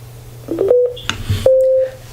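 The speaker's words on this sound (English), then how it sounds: "Now once you hear that sound, you should be ready to pair." A Bluetooth speaker with a built-in power bank enters pairing mode: a few short electronic tones, then a longer steady beep, clear and close in a quiet room with no talking.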